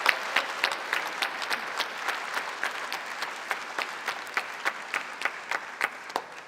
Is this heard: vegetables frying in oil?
no